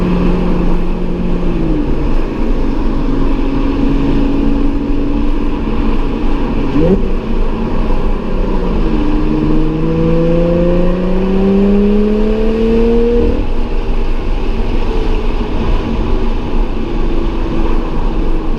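A Lotus Evora GTE race car's sport exhaust drones and roars loudly and steadily, with engine pitch sliding up and down as it revs and shifts, continuous and close.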